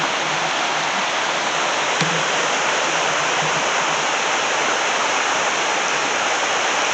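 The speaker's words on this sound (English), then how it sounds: "The river is flowing fairly good." A river rushes steadily nearby, a loud, constant wash of flowing water with no pauses.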